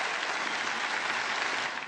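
A crowd claps in a dense, steady burst of applause that holds for about two seconds before starting to fade slightly at the end.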